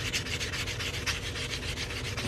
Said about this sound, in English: Sand this cut edge, make sure that stays nice and smooth.